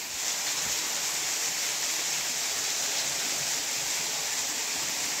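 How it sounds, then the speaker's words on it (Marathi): Steady rain falls near a rocky cave in the Maval hills, a dense, even hiss that holds without break throughout, with no voices. "पाऊस येतो आहे"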